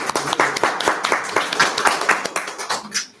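An audience applauds a panel of authors at a lecture event, a steady patter of many hands clapping, fairly close and sustained throughout, tapering slightly at the end.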